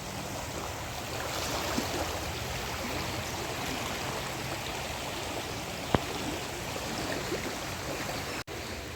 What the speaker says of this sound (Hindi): तो गंगा जल का बहाव बहुत तेज़ हो रखा है, बहुत तेज़ बह रही है माँ गंगा